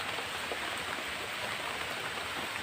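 Rain falls in a steady, even hiss, a continuous patter spread evenly over the whole moment at moderate loudness, with no voices.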